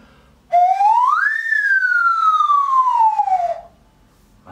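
A single higher-pitched nose whistle imitating birdsong swoops upward and then glides gradually down for about three seconds, loud and clear against quiet surroundings.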